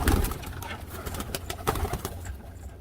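Pigeons coo steadily at close range around a backyard feeder, several birds overlapping in soft repeated calls with faint rustling and no talk.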